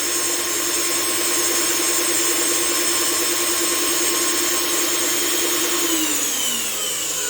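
A repaired paint sprayer pump runs steadily and loudly with a constant motor whine and hiss as it moves fluid, its pitch shifting slightly near the end, with no talking.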